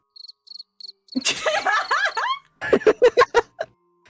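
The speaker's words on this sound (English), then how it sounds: "You hear crickets." Four short, high cricket chirps pulse evenly in a quiet scene, then giggling and laughing voices take over.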